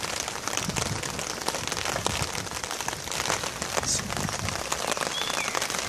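Rain patters steadily onto a car coated with hydrophobic carnauba wax, a dense, even hiss of drops hitting the surface outdoors with no voices.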